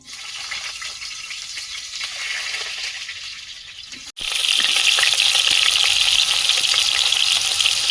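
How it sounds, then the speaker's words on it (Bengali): Papaya and potato frying in oil in a wok, a steady close sizzle that jumps sharply louder and brighter halfway through and then holds an intense crackling hiss. "কড়াইতে তেল দিয়েছি পেঁপে আর আলুটা আগে একটু হালকা করে ভেজে নেব"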